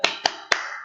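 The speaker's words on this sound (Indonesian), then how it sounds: "kita tepuk semangat dulu" Three crisp, evenly spaced claps from a classroom clapping chant, sharp and close, with a short ringing decay after each and no voices.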